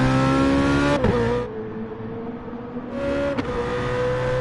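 A GT race car on new Vulcan tyres pulls away from the pit lane at Monza. The engine revs hard and shifts up twice, loud and close, with a steady rising drone.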